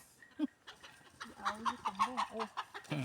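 Chickens cluck in a rural Thai yard as a dog chases them, giving a run of short, rhythmic, fairly close clucks with a louder squawk near the start.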